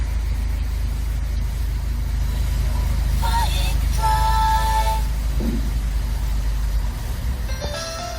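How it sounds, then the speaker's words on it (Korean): A 2013 Chevrolet Orlando running on LPG idles with a steady low engine hum, joined partway through by brief tonal beeps from the car's electronics. The car has a fault that makes it stall about ten seconds after starting. "시동 한번 걸어볼게. 자, 시동 걸렸지요?"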